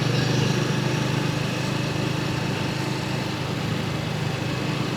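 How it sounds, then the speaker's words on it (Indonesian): Dense motorbike traffic on a city street in Salatiga during Lebaran, a continuous droning blend of small engines passing close by, steady and loud throughout without pause or talk. "Ya banyak banget ya motor-motor ya."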